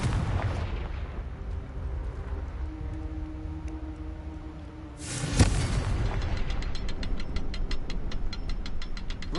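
A Confringo blasting spell from Hogwarts Legacy explodes with a sharp booming blast midway, preceded by a low rumbling game ambience and followed by a rapid stuttering crackle trailing off.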